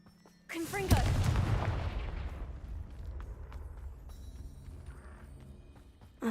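A Confringo spell blast in the Hogwarts Legacy video game: one loud booming explosion that decays into a long rumbling roar, with no speech over it.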